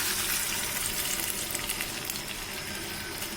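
Curry in a pan sizzles and fries as broth goes in, a dense steady hiss with light stirring, close and fairly loud without voices.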